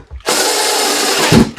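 A power drill runs in one steady whirring burst, close and loud, as it drives screws beside the feet of a frameless kitchen base cabinet, then winds down with a short clunk.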